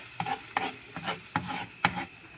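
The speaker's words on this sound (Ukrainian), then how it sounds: "І хвилинку приблизно просмажимо ось так томат." Tomato paste frying in a pan is stirred in five quick scraping strokes at a steady rhythm over a soft sizzle, close and moderately loud, with no talking.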